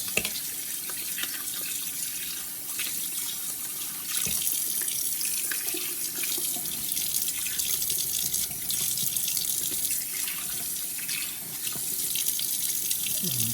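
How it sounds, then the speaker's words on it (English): Running tap water pours steadily over a reusable refillable Nespresso-style coffee pod as it is rinsed in a sink, a continuous splashing hiss that swells a little louder partway through, with no talking. "And just rinse this and dry them out."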